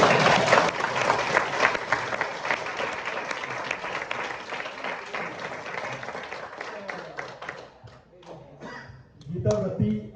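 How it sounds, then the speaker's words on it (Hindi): A burst of clapping from a group, strong at first and gradually thinning out, with voices rising as it fades. "ताली बजाओ."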